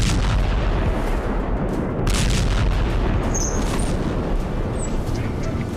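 Missile strikes and explosions near Damascus, Syria, including around Damascus Airport, as dense continuous rumbling booms and blasts with a loud, sustained roar throughout.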